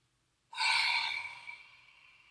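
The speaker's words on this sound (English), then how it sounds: "So we're going to inhale. Two more times. Inhale." A single deep breath during a gentle yoga class: silence, then a sudden loud airy exhale-like sigh that fades gradually over about two seconds, close and alone.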